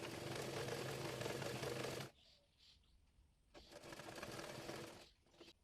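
A sewing machine runs in two steady bursts of fast, buzzing stitches, separated by a short pause, close and clear with no talking, while stitching the edge of a baby frock sewn from fabric scraps.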